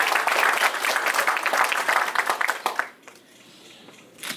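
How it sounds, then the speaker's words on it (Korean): Audience at an office opening ceremony applauds in a dense, fairly loud burst of clapping that stops abruptly near the end, leaving quiet room tone and a few faint stray claps. "박수로 환영 부탁드리겠습니다."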